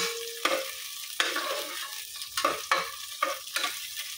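Aromatics sauté in a small pan before clams go in. A bright sizzle keeps up under repeated sharp scrapes and knocks of a utensil stirring against the pan, roughly every half second to second.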